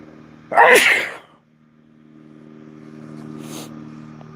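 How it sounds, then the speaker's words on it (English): One loud, close sneeze bursts out, followed by a steady low engine-like hum and a faint breathy exhale. "Fighting off a sneeze."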